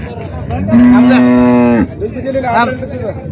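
A pregnant or freshly calved cow at a large cattle market in Parbhani, Maharashtra, lets out a loud, close, sustained moo lasting about a second, followed by a shorter, fainter low call amid crowd noise.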